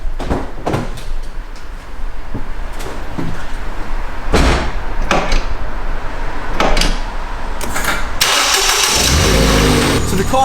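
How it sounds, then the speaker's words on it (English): A few clicks and knocks are followed by a salvage Ford Fiesta ST engine cranking and catching near the end, then idling with a loud, rough rumble. "Let's see if the car starts."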